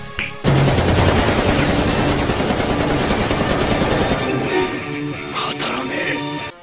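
Loud, sustained automatic gunfire from an anime action scene, a dense rattling barrage that holds for several seconds before thinning into scattered shots, with no voices.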